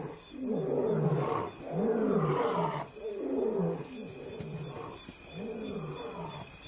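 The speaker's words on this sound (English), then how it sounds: "Their roars travel further after dark when the air is cooler." Male lions roar at night near the Luangwa river, a series of deep, rhythmic grunting roars repeating in about five long swells, loud and resonant with a faint insect-like whine in the background.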